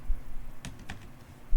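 Two quick keystrokes on a computer keyboard, clicked a fraction of a second apart while editing parallel programming code, stand out clearly against a quiet low hum with no talking.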